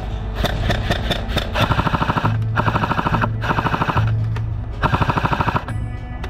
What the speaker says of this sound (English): Yeah, they're trying to shoot us.